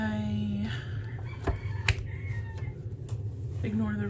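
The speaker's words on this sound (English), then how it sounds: "ignore the rooster." A rooster crows faintly in the background, twice, under steady low noise and scattered clicks.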